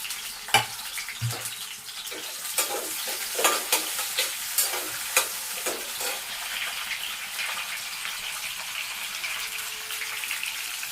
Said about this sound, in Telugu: ఉల్లిపాయలు పచ్చిమిర్చి వేస్తున్నాను పచ్చిమిర్చి ఉల్లిపాయలు కట్ చేసుకున్నాను కదా అవి వేసుకుంటున్నాను